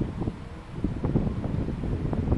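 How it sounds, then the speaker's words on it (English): Wind buffeting a microphone outdoors, with low rumbling gusts and irregular thumps that rise and fall in strength over a few seconds, loud and close. "the wind is just blowing my hand too much"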